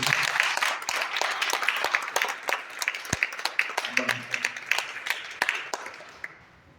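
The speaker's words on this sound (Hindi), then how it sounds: "तुम और एक जोरदार ताली बजाएंगे" Applause and clapping ring out from an audience at a Christian youth retreat, a crowd of hands beating fast and fairly close before thinning toward the end, with a voice or two briefly heard under it.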